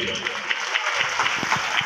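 An audience claps in a quick burst of scattered hand claps for Modi at a BJP leader's political speech in Shahdara, with a voice talking over the applause.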